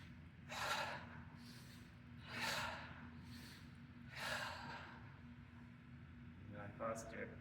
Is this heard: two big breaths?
yes